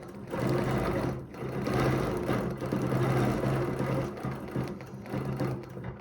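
A sewing machine stitches a quilt design at close range, its rapid mechanical whir running steadily with a brief slowdown early on, then continuing alone without talk.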